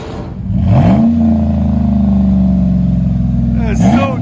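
A 2011 Chevy Avalanche with a 5.3L V8 and Carven TR-series exhaust with a 6-inch tip, revving in park: a deep, loud, sustained rev that rises, holds, then climbs again near the end, close by.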